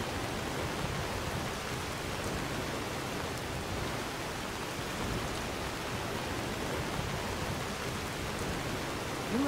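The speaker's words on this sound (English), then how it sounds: "the rain has even reached here to Fallcreath." Steady rain falls in Skyrim, a constant broadband hiss of rainfall throughout, moderately quiet with no talking.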